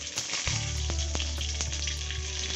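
Curry leaves hit hot oil in a frying pan for a spicy fish curry, bursting into a loud, close sizzle with crackling pops that keeps going steadily, no voices.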